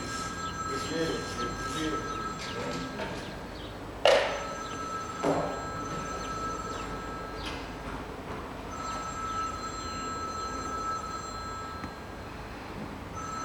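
A telephone bell rings steadily in the background at a BMW diagnostics workshop, its tone running through the whole stretch, with a couple of sharp knocks and faint voices nearby.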